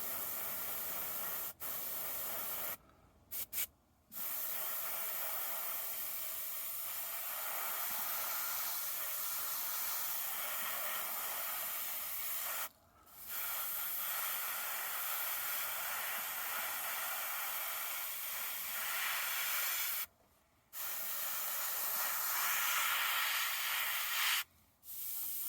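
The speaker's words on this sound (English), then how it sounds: "You're supposed to be able to spray this straight out of the bottle" Paint sprayed straight from the bottle onto the bumper of a Revell 1/24 scale 1976 Chevy Sport Pickup model: long, loud, steady hissing bursts broken by a few brief pauses, close up and with no talking.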